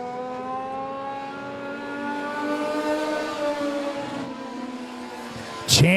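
Race cars roar around the Monett Motor Speedway track, engines droning and rising in pitch as they pass, fairly distant and steady, with a sharp burst of noise near the end.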